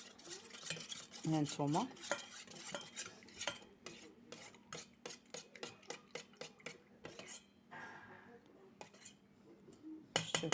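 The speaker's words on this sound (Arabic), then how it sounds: "كنردوه يغلي مزيان حتى يغلى مع الاستمرار في التحريك" A spoon repeatedly scrapes and clinks against a pot while a starch mixture is stirred as it heats, making a series of sharp taps and scrapes. A low bubbling runs underneath, and a voice briefly speaks.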